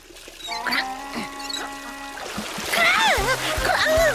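Water gushing from a tap that won't turn off in a children's cartoon: a steady pouring, splashing stream mixed with quacking, squawking cartoon character voices and music tones.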